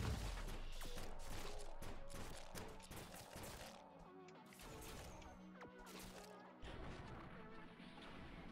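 Rocket launcher fire and explosions in a video game: repeated loud crashing blasts with a dense, rapid rhythm through the first few seconds, easing into lower rumbling impacts and scattered hits, with no talking.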